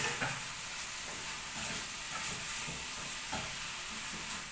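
Pork sizzles and hisses in a hot wok, with soft scraping as it is stirred, fairly quiet and without voices.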